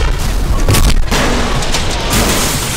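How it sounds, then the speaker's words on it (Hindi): A bomb explodes in a South Indian action movie dubbed into Hindi, a loud, deep boom that rumbles on for almost three seconds with debris-like crackle layered over it. "शुक्र है बम फट गया, लेकिन मैं बच गया।"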